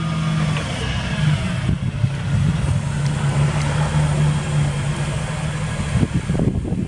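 A GM Vortec 4.3-liter gasoline engine in a 2005 Toyota 7FKGU40 forklift idles steadily with a low, even drone and a few faint knocks and clunks.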